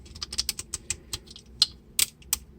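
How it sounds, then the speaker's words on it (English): Ratcheting joints of a Shinkalion Z N700S Hida toy robot being flexed, a quick run of crisp, close plastic clicks, uneven in rhythm, with a few louder snaps near the end. "Again, ratcheting joints here in the shoulder."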